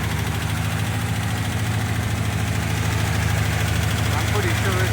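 A car engine with a leaking exhaust manifold idles nearby, giving a constant low rumble with a fine rapid pulsing throughout, loud and unbroken.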